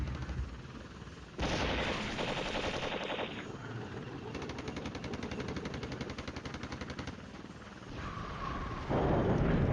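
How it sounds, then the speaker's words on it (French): Artillery and automatic gunfire from the Cold War strategy video game Flashpoint Campaigns, dense rapid bursts of shots and rumbling explosions that start abruptly and continue loudly, with a heavier crash near the end. "L'artillerie commence à tomber."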